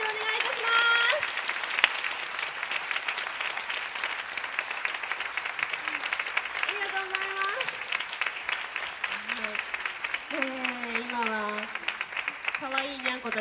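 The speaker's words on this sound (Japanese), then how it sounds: "皆さん盛大な拍手をお願いいたします。" Audience applause at a live concert marking a singer's 8th anniversary birthday show, steady hall-wide clapping under a voice speaking through a microphone.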